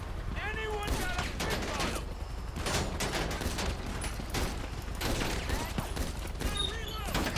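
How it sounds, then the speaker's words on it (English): Repeated gunfire bursts from a GTA V shootout, sharp shots and rapid volleys crackling steadily throughout, mixed with game sounds and faint voices underneath. "I keep shooting this motherfucker in the head, and somehow he's still alive"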